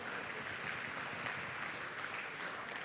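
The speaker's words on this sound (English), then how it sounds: "Can we have a big round of applause for Sir" Steady applause from an audience at a stage event, moderately faint and continuous throughout with no talk over it.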